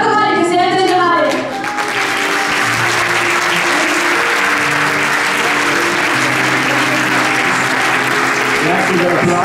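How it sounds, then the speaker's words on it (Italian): An audience at an evening gathering breaks into sustained applause, dense and fairly loud, as a voice finishes speaking at the start; the clapping continues steadily with a low background hum. "Grazie per l'applauso"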